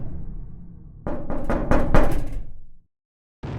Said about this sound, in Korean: 끝없는 우주에 혼자 있는 작은 우주선 내에서 노크 소리가 들립니다.